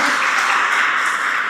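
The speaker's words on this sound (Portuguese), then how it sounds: "Quantos podem dar uma salva de palmas a Deus?" A church congregation applauds in a dense, steady wash of clapping that fills the room from start to finish, with no pauses.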